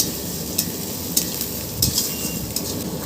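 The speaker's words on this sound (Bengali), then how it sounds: "তারপর নাড়বো।" Spiced hilsa fish curry being stirred in a pan, a steady low sizzle broken by a few sharp scrapes and clinks of a utensil against the metal, close and without talk.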